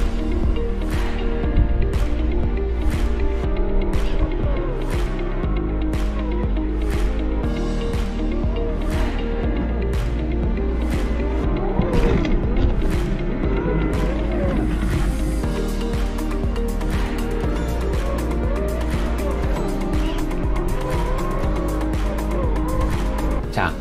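Small electric motor whining from a 1/8 scale RC Ford F150 Raptor crawling slowly over off-road obstacles, a continuous gritty drone with repeated surges and clicks, close and loud throughout.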